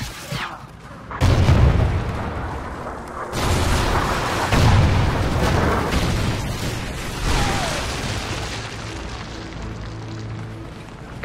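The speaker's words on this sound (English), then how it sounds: "Friendly Trinity rocket inbound." Trinity rocket explosions in the video game Call of Duty: Ghosts, on a team deathmatch match on the map Octane, with a heavy boom near the start, a second blast midway and a rumbling, noisy aftermath.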